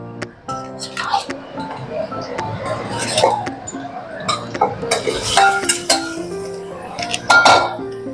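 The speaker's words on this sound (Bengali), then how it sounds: "ম্যারিনেট করা মাংসটা দিয়ে দেব" Marinated chicken goes into a pot for chicken dum pulao, with close metallic clinks, scrapes and clatters of a utensil against the pot in irregular bursts over soft background music.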